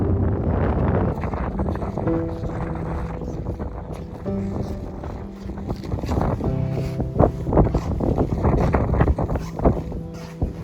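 Steady wind buffeting the microphone on Namibia's Skeleton Coast, a continuous low rumble and roar across the whole stretch, with faint gusty surges and a few brief tonal hums underneath.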